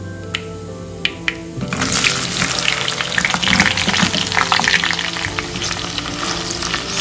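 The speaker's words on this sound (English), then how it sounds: "Let's fry the okra first." Okra drops into hot coconut oil, a few light taps giving way to a sudden loud, crackling sizzle that keeps on up close, with no talk.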